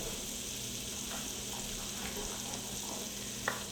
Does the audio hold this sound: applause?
no